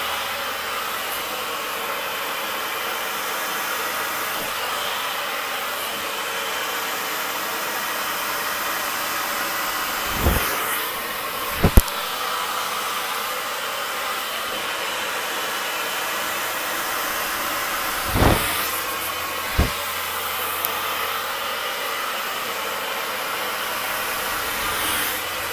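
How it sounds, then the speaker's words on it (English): A hand-held blow dryer dries a mohawk's top section at home, giving a steady, close, continuous airy hiss with a few brief knocks and bumps along the way. "I'm just going in little sections and blow drying this whole mohawk top section forward."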